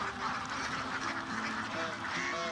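Ducks on a Vietnamese duck farm, a flock of thousands, quack and honk in a constant overlapping chorus, moderately near and steady throughout.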